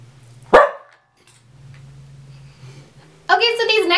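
A dog gives one sharp, close bark, followed by a low steady hum. A few seconds later someone begins talking.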